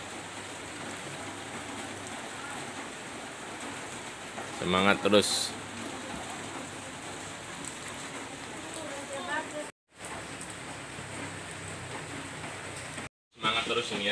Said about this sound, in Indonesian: Ya, ini hujan ini ya.